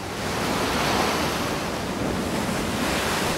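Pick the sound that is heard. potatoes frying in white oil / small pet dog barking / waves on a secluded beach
waves on a secluded beach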